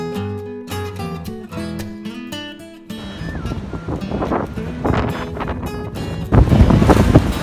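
Wind gusting loudly across a chicken run during a windy day, a broad rushing roar that swells stronger toward the end, with some tonal music in the first few seconds.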